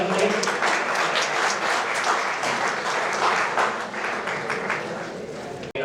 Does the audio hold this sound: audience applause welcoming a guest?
yes